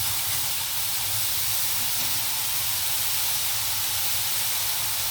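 Onions frying in a pan with turmeric and salt, giving a steady, even hiss and sizzle that holds unbroken throughout with no voices over it.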